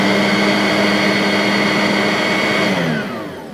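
A Simplicity Riccar R10 vacuum cleaner motor runs loud on high speed, a steady high-pitched whine with a strong hum that begins to wind down near the end.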